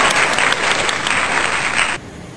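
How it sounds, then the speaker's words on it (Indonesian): Sunday school children receive a dense round of applause from a gathered church group, loud and continuous before cutting off abruptly near the end, leaving faint room noise. "Tepuk tangan untuk anak sekolah minggu Gemit Shalom Kupang."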